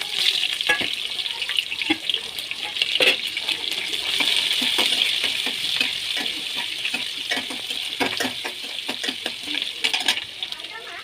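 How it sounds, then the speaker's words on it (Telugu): Sliced onions and green chillies frying in a pan for an Andhra-style pumpkin curry, a steady close sizzle with frequent small clicks and scrapes of stirring throughout. "సన్నగా తరిగి పెట్టుకున్న ఉల్లిపాయ ముక్కలు, పచ్చిమిరపకాయ ముక్కలు వేసి గోధుమ రంగులో వచ్చేంత వరకు వేయించుకోవాలండి"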